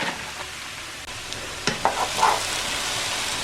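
Squash casserole stirred in a pan, a spoon scraping and clinking against the pan over a soft sizzle, with a few sharper knocks near the middle; no talk.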